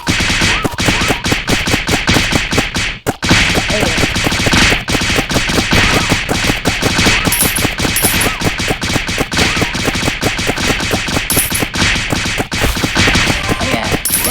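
Rapid sustained gunfire from a gun in the Roblox-style game Slime RNG, a loud dense stream of automatic shots rattling continuously for the whole stretch with only one brief pause.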